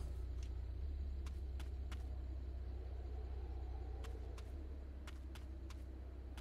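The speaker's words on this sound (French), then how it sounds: "C'est une voiture électrique, mais j'entends le moteur rouler." An electric car in the Dysterra video game hums with a low, steady engine-like rumble, while sharp faint clicks come and go above it.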